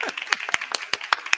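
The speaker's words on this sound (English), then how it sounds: "Let's give a round of applause." Scattered hand claps from a small online audience at a climate talk, about a dozen distinct sharp claps in an uneven rhythm, fairly close and moderately loud, with no talking over them.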